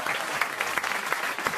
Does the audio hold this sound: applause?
yes